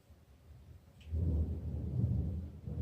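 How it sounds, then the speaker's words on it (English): A low roll of thunder starts softly, then builds into a deep, sustained rumble outdoors that holds for a couple of seconds, with no talking. "it's a good thing I unplugged it because it's thundering"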